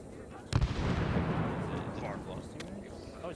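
A grenade blasts in a Vietnam-era military video game: a single sharp boom strikes near the start, then a long, loud rumbling roar fades slowly over the remaining seconds.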